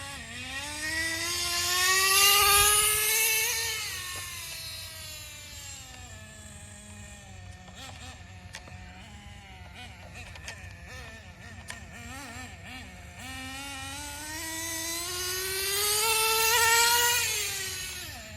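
A Team Associated NTC3 nitro RC car with a small .12 engine on an old glow plug buzzes and revs high, swelling loud, falling back to a lower drone in the middle, then screaming up again.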